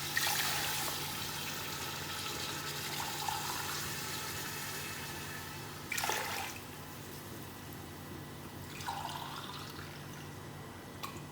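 Chicken yakhni stock is poured from a glass into a pot for pulao, giving several bursts of splashing, gurgling liquid over a steady background hum.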